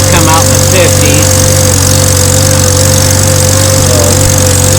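Late-1940s farm tractor engine runs steadily while planting corn with an old planter, a loud continuous mid-pitched drone close by, with faint voices briefly over it near the start.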